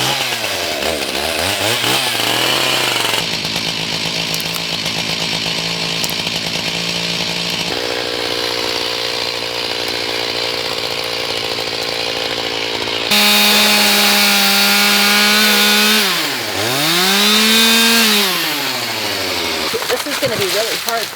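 A chainsaw runs loud and close throughout, its engine pitch dipping and climbing as it bites into wood and revs back up.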